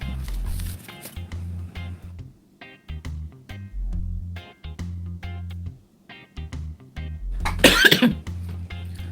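A person coughs several times in short bursts between stretches of talking, with one harsher, louder cough near the end, close to the microphone.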